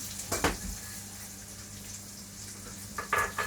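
Barley is lightly roasted in a pan, with a soft sizzle and a few scraping stirs near the start and end.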